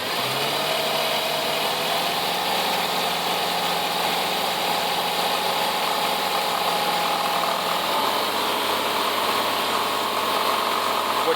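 A 2004 Jeep Liberty 3.7 engine running steadily while its air conditioner compressor labors, a dense continuous mechanical drone with a slight change in pitch partway through, close and loud with no talking.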